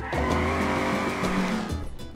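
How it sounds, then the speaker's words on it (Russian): A car drifts in the Garry's Mod video game, its tires squealing in a sustained, loud screech over a steady engine roar for about two seconds. "Смотри, как дрифтует."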